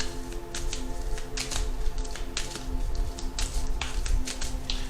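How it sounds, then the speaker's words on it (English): Tarot cards being shuffled, close and crisp, with repeated riffling bursts and soft flicking snaps in an irregular rhythm over a faint background hum, no talk. "And while I shuffle"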